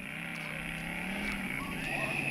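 A simulated engine rumble plays from the Bluetooth speaker built into a Hyper GoGo mini chopper motorcycle, a steady droning hum with a slight rising whine, continuous and fairly quiet.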